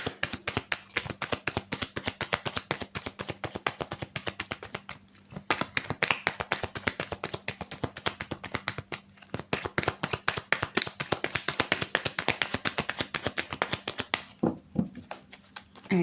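Tarot cards being shuffled and drawn, a dense run of rapid, close riffling taps and flicks continuing almost without break, briefly thinning a few times.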